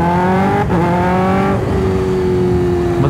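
A Kawasaki H2 motorcycle roars at speed. Its engine holds a loud, steady high-revving drone with rising harmonics, then the pitch shifts near the middle and stays close and continuous, with no talk.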